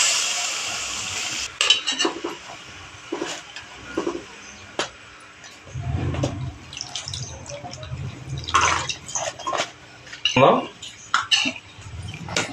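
A spoon stirs masala in a cooking pot with intermittent scrapes, clinks and wet mixing sounds, close and moderately loud, with speech in the background.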